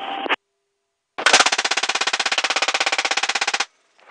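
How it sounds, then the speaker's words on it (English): A helicopter door-mounted machine gun fires one sustained burst of rapid, evenly spaced shots during aerial gunnery, loud and close, after a brief clipped radio-like snippet and a moment of silence. "Left gun, open fire."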